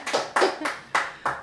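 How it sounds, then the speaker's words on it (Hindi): Loud clapping on a talk show set, heard as five distinct bursts of hands in quick uneven succession, close and sharp, with no voices over it. "जोरदार तालियां।"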